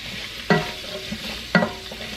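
Chopped celery and other soup vegetables for a kielbasa and white bean soup get stirred in a pot. Two distinct scraping strokes sound close by over a soft sizzle, about a second apart.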